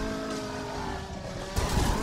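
Race car in Forza Motorsport 7 holding a steady high engine whine as it brakes, ending with a rougher burst of tire and gravel noise; no speech.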